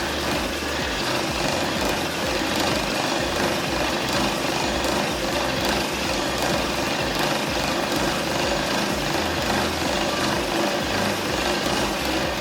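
Power Plate REV vibration exercise machine running steadily, a dense continuous buzzing rumble with gritty mechanical texture, close and constant throughout with no talking.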